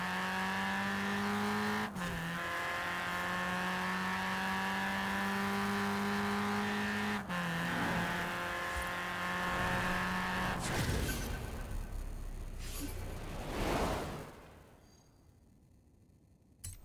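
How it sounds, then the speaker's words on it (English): Volkswagen Golf GTI engine in Forza Horizon 4 revving hard through several gear shifts, each pitch climb cut by a sharp shift, then a loud roaring burst and tire noise before fading out. "It's the iconic Volkswagen Golf GTI."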